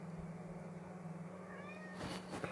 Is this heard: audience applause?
no